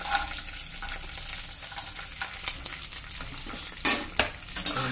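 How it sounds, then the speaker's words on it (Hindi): Curry leaves, green chillies, almonds and cashews fry and get stirred in a pan, a steady close sizzle with scraping spoon strokes and light clinks of the utensil against the metal, no talking. "इसे अच्छी तरह मिला लीजिए थोड़ी देर फ्राई होने के बाद"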